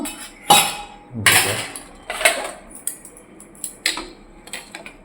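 Spoon clinking against a bowl as dal, boiled the day before and thin from the heat, is served out in a home kitchen: a few sharp metallic clinks and scrapes spaced through the moment, close and fairly loud, with no talk.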